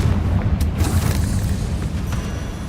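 The Confringo blasting spell in Hogwarts Legacy goes off as a loud, rumbling explosion, with a sharp burst early on followed by sustained low booming and crackle.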